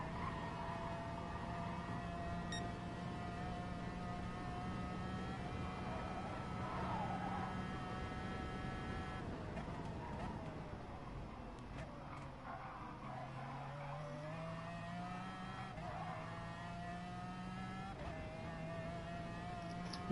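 A racing car's engine in Gran Turismo Sport drones steadily with rising and falling revs, heard faintly at low level over continuous tire and track noise, with pitch shifts as it accelerates.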